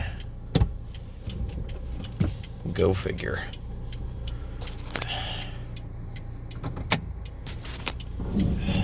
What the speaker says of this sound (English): And there's another car coming.